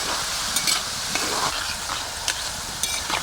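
Nimki dough pieces fry in oil with a dense, close sizzle. Light scraping strokes stir through them every half second or so, and there is no speech.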